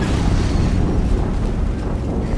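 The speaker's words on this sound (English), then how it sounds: "Another explosion." An explosion in the video game Horizon Zero Dawn gives a loud, dense rumbling blast that fills the whole moment with no voices over it.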